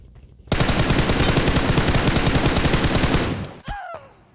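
Sustained rapid automatic gunfire in PUBG Mobile, loud and close, a dense burst lasting about three seconds, then cut off, followed by a couple of sharp whooshing or ricochet-like sweeps.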